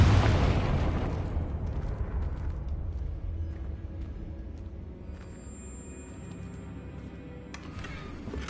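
A Confringo fire spell explodes with a loud, booming burst in Hogwarts Legacy, its blast rolling off into a long, fading rumble, while faint chimes ring near the end.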